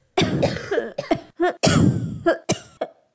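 A cartoon child coughs in a series of harsh, hacking bursts, about eight coughs in quick irregular succession, close and loud with no talk between them.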